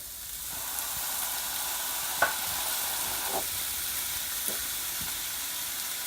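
Chicken with soy sauce and black pepper sizzling in a pan, a constant hiss of frying broken by a few scraping stirs of a spatula, close and fairly loud.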